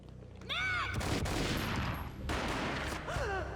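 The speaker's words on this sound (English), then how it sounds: "A gunshot boomed and she fell down in slow motion." Gunfire in the Max Payne video game: a sustained burst of loud, close gunshots lasting a few seconds, briefly broken by a pause, mixed with game sound effects.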